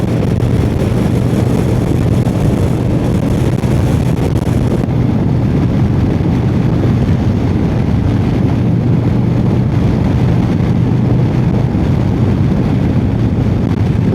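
A 2025 Harley Davidson Road King cruises along with a steady low engine rumble buried under constant rushing wind noise, loud and unbroken throughout.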